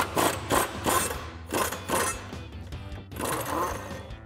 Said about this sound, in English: Now remove this body mount bolt here.